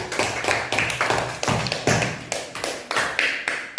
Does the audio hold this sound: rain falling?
no